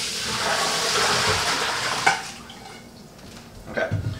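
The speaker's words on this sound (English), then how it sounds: "Dump all that water out" Water poured out of a home-brewing pot during extract beer brewing, a broad splashing rush that runs steadily then tapers off, with a couple of sharp clanks and sloshes near the end.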